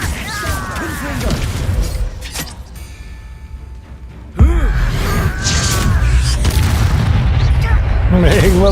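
The Confringo explosive spell in the video game Hogwarts Legacy lands as a sudden loud boom with a crashing burst midway. Game combat noise, music and character voices sit around it.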